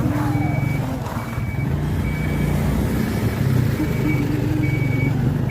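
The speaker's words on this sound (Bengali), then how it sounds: "বড় গাড়ি" A large vehicle on a foggy winter road gives a loud, steady engine rumble close by. Intermittent high beeps sound over it.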